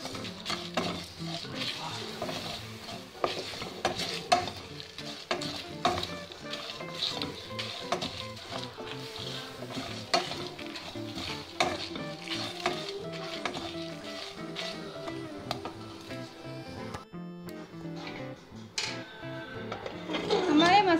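Whole spices for rasam powder frying in a pan while being stirred, with steady sizzling and scraping of a utensil against the pan throughout, clinks and knocks scattered on top, at moderate level.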